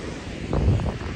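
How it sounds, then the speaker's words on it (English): Wind sweeps across the top of a tower at sunset, a continuous low rushing rumble that swells briefly in the middle. "It's kind of windy, sorry if you can't hear."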